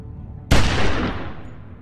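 A single gunshot in a video game scene cracks out after near silence, loud and close, then fades through a long reverberant tail.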